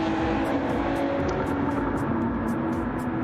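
A naturally aspirated Honda race car engine drones steadily on the Daytona road course, a constant loud mechanical roar with no clear rise or fall, heard from a distance with no voices.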